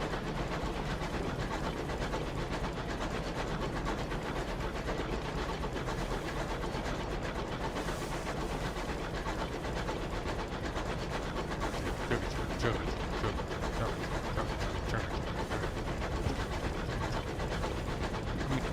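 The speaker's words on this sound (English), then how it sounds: "I'll ride the train" Train riding in the space game Sunless Skies: a steady, dense rumbling engine-and-rail drone fills the whole stretch at even loudness, with faint clattering texture and no clear talk over it.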